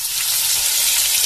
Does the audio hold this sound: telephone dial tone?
no